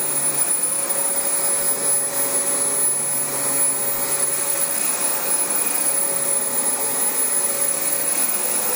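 A Dyson DC25 upright vacuum cleaner runs steadily while cleaning a living room, a loud, continuous high-pitched motor whine and rushing airflow with a faint constant tone, no voices.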